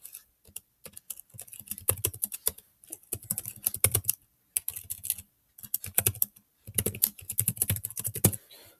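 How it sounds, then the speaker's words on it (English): Fingers typing on a computer keyboard, close and clear, in quick bursts of rapid keystrokes separated by short pauses. "Let's go ahead and type that in."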